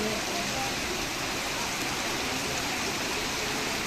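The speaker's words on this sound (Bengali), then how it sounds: "এইদিকে প্রচুর বৃষ্টি হচ্ছে" Dense, steady downpour of heavy rain, a loud continuous roar of water with no breaks.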